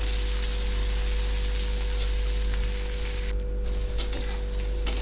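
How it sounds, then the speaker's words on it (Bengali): Jackfruit pieces fry in hot oil with turmeric, a dense continuous sizzle close up with a low steady hum underneath and a few stirring scrapes near the end, no talking. "আমি কাঁঠালটা বেশ লাল লাল করে একটু ভেজে নেব।"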